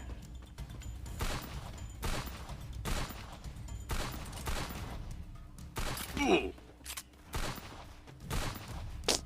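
Gunfire in the battle-royale video game Free Fire, with a long-barrel shotgun in use: several loud bursts of shots spread across the clip, some spaced and some rapid, while a player talks over the action.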